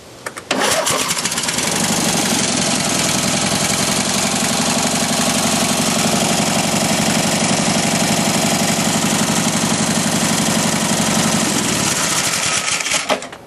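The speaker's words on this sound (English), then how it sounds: "So it still has a little bit of compression issues on this cylinder here, which is the right hand cylinder, but it is running." A Mastercraft boat's inboard engine, running with low compression on its right-hand cylinder, cranks and catches, then runs steadily and loudly on its own for about eleven seconds before cutting off.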